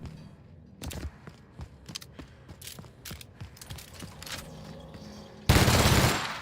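A fast-firing gun in The Outer Worlds on Supernova difficulty lets off a rapid, evenly spaced string of sharp mechanical shots, ending in a sudden loud burst of noise.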